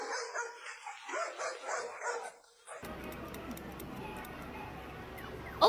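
A corgi barks and yips in a quick run of short, close calls. Then the barking gives way to a steady, grainy background noise that lasts to the end.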